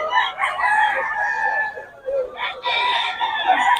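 Roosters at a chicken market crow in overlapping calls, loud and close, with some clucking between them and someone talking nearby.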